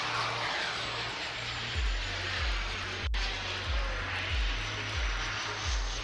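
A Swift S1 model glider, 18 kilograms and fitted with a 132 turbine, climbs steeply at an outdoor wing show, its engine a steady, loud, distant whine and roar with a slowly shifting pitch and no talk.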